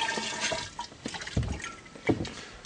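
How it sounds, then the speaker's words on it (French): Water poured onto kefir grains in a strainer: soft, irregular splashes and drips, close and fairly faint, with no voices. "Et donc là je vais rajouter un peu d'eau"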